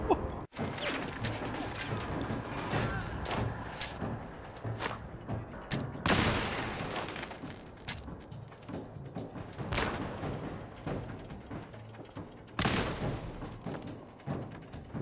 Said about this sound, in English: I just threw like two frags in there and he's dead?